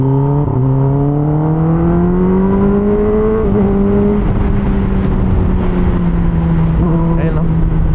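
A 10R superbike's engine revs loudly up close, its pitch climbing and then easing off in a few smooth sweeps, a sustained motor drone running from start to finish.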